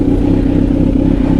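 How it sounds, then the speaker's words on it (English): A Kawasaki Z900 motorcycle with a full Mivv carbon exhaust runs close by, a loud, steady, throbbing engine drone with a pulsing, rough edge. "Mivv exhaust, so I'm going to ride this for a while."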